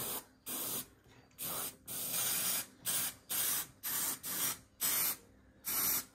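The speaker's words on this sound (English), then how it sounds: "Hope I've held the spray can the right way" An aerosol can sprays adhesive in a series of short, even hissing bursts, about eight in quick succession, close by, on a Mk1 Ford Fiesta seat.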